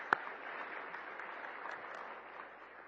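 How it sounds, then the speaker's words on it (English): Audience at a hospitality and tourism summit applauding group discussions, a soft, distant patter of clapping that stays fairly faint and even, opening with one sharp clap and tapering slightly near the end. "Let's give you guys all a big round of applause for your great group discussions"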